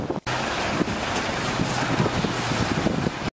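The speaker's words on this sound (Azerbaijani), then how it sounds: "Hazırda İmişli şəhərində və eləcə də kəndlərində güclü külək davam edir." Strong wind blowing through the town and villages of Imishli, Azerbaijan, roaring steadily as a broadband rush with heavy buffeting on the microphone, low rumble and brief dropouts, no voices.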